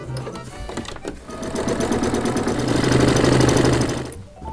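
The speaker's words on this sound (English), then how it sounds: "I'll start by stitching the short end closed." A sewing machine stitches the short end of an apron tie strap closed, its rapid, even needle chatter building steadily and loud up close before stopping abruptly, with no speech.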